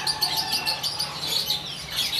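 A young green sunbird (kolibri hijauan) at a bird market stall gives rapid high thin chirps and twittering trills, close and fairly loud, with a faint background of other birds.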